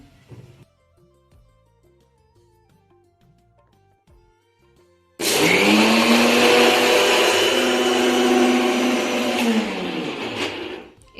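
A mixer grinder whirs loudly as it grinds ingredients, a sustained motor roar with a rising then settling pitch lasting about six seconds, after quiet background music.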